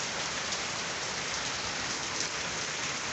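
Heavy rain pours down steadily on plants and surfaces outdoors, a dense, even hiss close by with no pauses and no voices.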